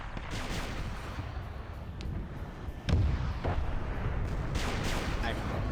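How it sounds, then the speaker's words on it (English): Artillery fires in a Foxhole battle, several booming shots, one heavy blast standing out, over a dense rumbling backdrop with a voice talking underneath. "I might hear artillery firing"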